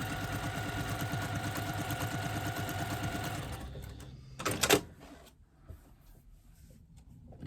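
Sewing machine stitching quilt-as-you-go fabric strips: a fast, steady mechanical whir and needle chatter runs for about three and a half seconds, then stops, followed by a single close clunk and quiet handling.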